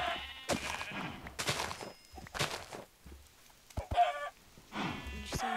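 Sheep bleating in the video game Minecraft, several short bleats in separate bursts alongside chicken clucks and footsteps, fairly close and moderately loud with no talk over them.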